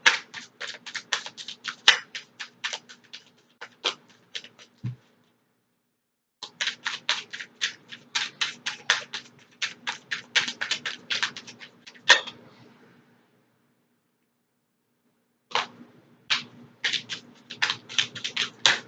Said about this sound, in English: I'm gonna shuffle 3 more times and that's it, okay?